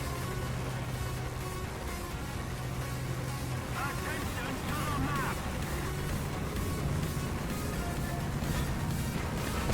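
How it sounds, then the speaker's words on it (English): Enemy tank engine in the War Thunder video game, a steady low rumbling drone running through the whole stretch at moderate level, with a brief higher mechanical whine midway and faint voice underneath. "We can hear another audio cue of his engine"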